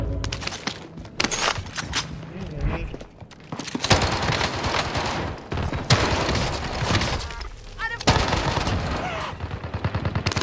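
Dense automatic gunfire in the Warzone video game, sustained bursts and rapid shots overlapping almost continuously, loud and busy with a voice mixed in at times.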